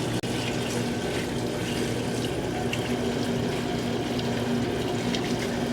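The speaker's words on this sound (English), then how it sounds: "All right, so I'm just going to continue rinsing." Water rinsing out a commercial fryer ahead of a boil out, a steady, continuous rush of running water close by, broken only by one brief click near the start.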